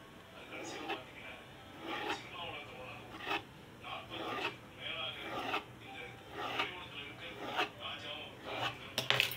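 A knife slicing through layered parotta dough on a board, giving a series of soft rasping, scraping strokes at a steady rhythm, close by, with a faint hum underneath.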